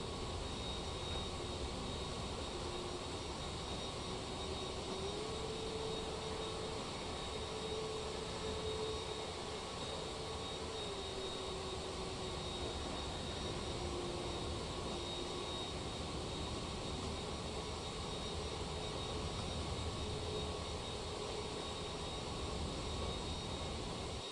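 A simulated Airbus A321neo (FSLabs) taxiing in a flight simulator gives a steady, continuous jet engine drone with a faint tone that slowly wavers, loud and unbroken throughout with no talking.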